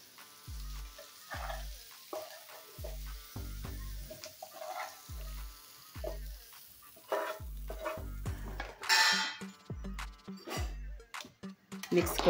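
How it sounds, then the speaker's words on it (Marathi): A hot tempering is poured into cooked vegetable khichdi and stirred in, giving a burst of sizzling crackle and then repeated spoon-against-pot scraping strokes in a steady rhythm, close up. "आणि आता हे दिलेली फोडणी आपण या शिजवलेल्या खिचडीमध्ये टाकूया।"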